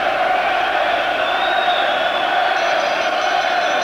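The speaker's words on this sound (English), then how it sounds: "Big crowd, great atmosphere here." A large boxing arena crowd roars and cheers steadily while awaiting Joe Calzaghe's ring entrance for his fight against Charles Brewer, a dense continuous wash of voices at constant loudness with no distinct speech.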